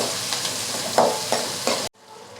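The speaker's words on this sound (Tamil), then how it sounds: "வெங்காயம், பச்சை மிளகாய் போட்டு வெங்காயத்தை நல்லா வதக்கலாம் ஃப்ரெண்ட்ஸ்" Onions and green chillies are sautéed in a pan, a bright hissing sizzle with repeated spatula scrapes in a loose rhythm, cutting off abruptly into near quiet near the end.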